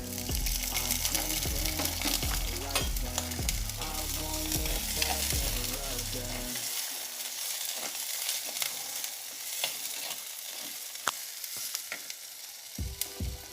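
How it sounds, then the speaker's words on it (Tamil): Small onions (shallots) sautéing in a pan for a manathakkali and sukkitti greens poriyal, giving a steady close sizzle with scraping stir strokes; melodic background music plays through the first half. "இப்போ இது நல்லா கோல்டன் கலர் வர அளவுக்கு நல்லா வணக்கிக்கோங்க"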